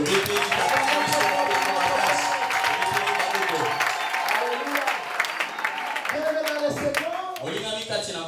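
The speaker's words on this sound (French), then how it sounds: "On acclame pour notre Père." A church congregation at an Easter celebration applauds in sustained, dense clapping that stays loud throughout, with voices and cheering mixed in.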